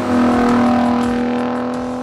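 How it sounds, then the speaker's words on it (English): A deep, loud Ford F-150 Raptor pickup engine drone with a steady rumbling exhaust note, holding a sustained rev before easing off slightly. "What the Raptor has been wanting for, up until now at least, is a beefier sound."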